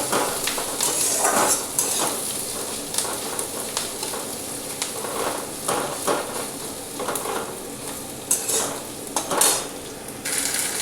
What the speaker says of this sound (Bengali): পেঁয়াজটা একটু লালচে করে বেশ ভাজবো